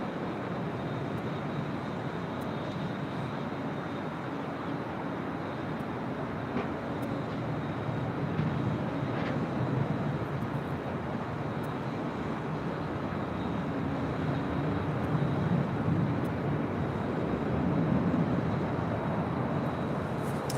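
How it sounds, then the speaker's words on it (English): A China Cargo Airlines Boeing 777 freighter takes off from runway 25 on the south side of LAX, bound for Shanghai, a steady broad roar sustained at a distance throughout with no talk. "taking off there on 25 right there on the south side, China Cargo Airlines Flight 222 heading back to Shanghai, that 777"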